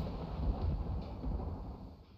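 Thunder rumbles from a lightning storm in the video game Unnatural Disaster, a low continuous roll that swells and fades, moderately loud with no talk over it.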